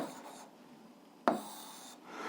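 A math fraction is written out by hand, producing faint, close scratchy strokes with one sharper tap of the writing tool midway and no talking.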